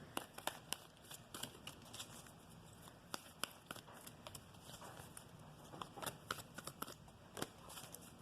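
Tarot cards riffle and slap in quick, irregular bursts of crisp snaps, close and quiet, with no voices.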